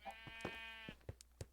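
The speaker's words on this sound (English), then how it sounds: "I just kind of randomly set up this sheep farm here" Sheep on a Minecraft sheep farm bleat once in a clear, wavering cry. Soft clicks and taps from the game follow.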